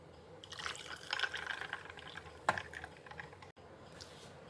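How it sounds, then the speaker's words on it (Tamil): Tomato juice with ice cubes poured into a cup, a soft liquid splash and trickle with a few clinks, fairly quiet and close, ending with a brief tap. "ரெடி பண்ணி வச்ச ஜூஸை இந்த கப்புக்கு ட்ரான்ஸ்ஃபர் பண்ணிடுறேன்"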